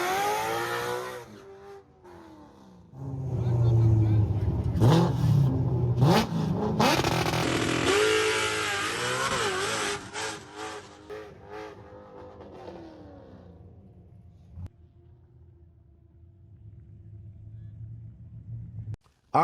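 Manual stick-shift drag car launching on a no-prep track, a loud engine roar building through a gear change before lifting off and coasting, fading into quieter rumble and distant ambience.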